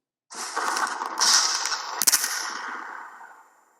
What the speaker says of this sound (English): gunshots. That would be a very dramatic show